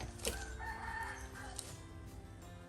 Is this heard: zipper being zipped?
no